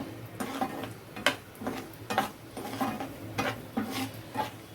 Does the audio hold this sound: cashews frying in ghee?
yes